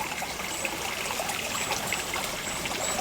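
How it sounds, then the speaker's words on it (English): A small stream flows through a little backyard wetland, its water trickling and babbling steadily. The sound is close, continuous and unbroken, with no voices over it. "Now you can hear the water on this side"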